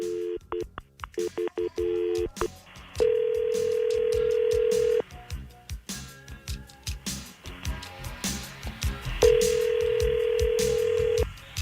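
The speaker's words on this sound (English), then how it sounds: "Mute your phone so he doesn't hear another person on the phone when we do this dialing" A telephone dialing sequence before a call: bursts of touch-tone keypad beeps in quick clusters, then long sustained tones between further dialing clicks, clear and alone with no talk.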